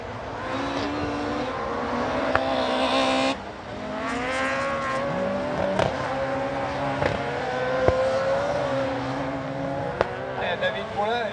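Renault Clio R3 rallycross cars racing at night at Dreux, engines revving and shifting pitch as they pass, with tire squeal and sharp pops, under continuous excited commentary.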